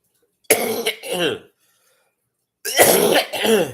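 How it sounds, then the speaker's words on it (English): Two bursts of throat clearing and coughing from a person recovering from COVID, close and loud, separated by a stretch of silence. "Still a little bit of a cough, but it's fine."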